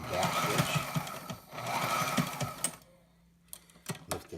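A Sailrite LSZ-1 sewing machine runs in two rapid, steady stitching bursts for a back stitch, then stops and whirs again briefly, close and fairly quiet with no talking.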